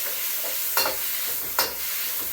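Beef sears in a hot pan for a beef noodle stir-fry, a steady close sizzle broken by two brief bursts of stirring.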